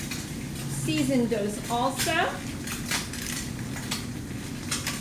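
Food sizzling in a hot frying pan set on high for a croque madame, a steady close hiss with some utensil clatter and scraping, while a person speaks briefly over it.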